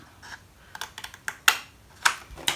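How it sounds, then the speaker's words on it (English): Scissors cutting a small V notch into the curved section of a paper heart shape for a box: a few light, crisp snips and ticks, close and distinct, with no talking. "I'm just going to put a snip in and cut a little V out here"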